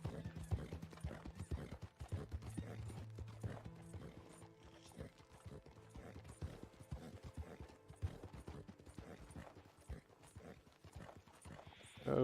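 Horse hooves clip-clopping in a steady riding rhythm in Red Dead Redemption 2, mixed with game music and mechanical clicks, continuous through the ride.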